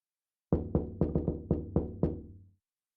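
Eight sharp knocks on a door in an uneven, quickening rhythm, close and fairly loud, each with a short resonant ring, then silence; no voices.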